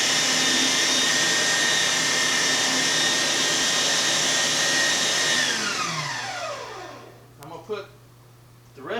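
A cheap, slow electric meat grinder bought at Rural King, grinding venison for homemade sausage, whines loudly and steadily, then is switched off and winds down in a falling hum, followed by a few light clunks.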